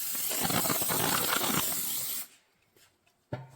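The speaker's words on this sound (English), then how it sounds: "I'm going to spray my cleaner, not onto the pot, but onto our cleaning cloth" A long, steady hiss of spraying cleaner onto a cleaning cloth lasts about two seconds, then stops; a soft rustle and a brief thump follow.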